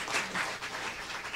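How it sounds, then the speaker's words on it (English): Faint, steady applause from a conference audience honouring the panelists at a 2014 Korea-US-China conference session, soft and diffuse throughout with no talking over it. "I need your great applaud for our excellent panelists."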